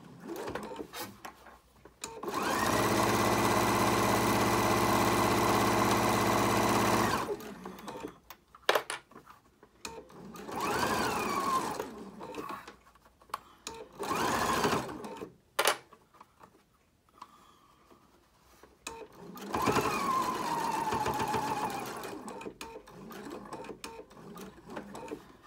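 A sewing machine sews over the folded pleats of a fabric face mask, whirring steadily for several seconds, then running in shorter, softer bursts mixed with handling clatter, with no talking.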